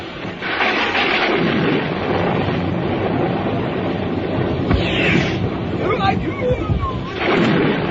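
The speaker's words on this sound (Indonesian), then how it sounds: "Sementara hujan turun, petir dan pijar menggelegar." Thunder rumbles over steady heavy rain in an audio drama, loud and close, with deep rolling booms swelling near the start and again toward the end.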